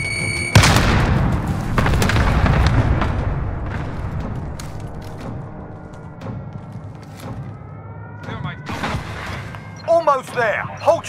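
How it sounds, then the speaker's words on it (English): A grenade going off in Warzone, a loud booming blast at the start that rolls and fades, followed by scattered shots and in-game chatter. "Grenade out!"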